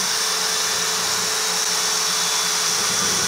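A blunt drill bores a pilot hole into oak, a steady, harsh whirring grind heard close up and alone throughout.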